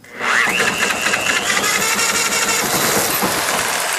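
A 1964 Honda 90 CT200 engine fires up on choke, a sudden loud buzzing start settling into a steady rapid close-up idle that holds to the end.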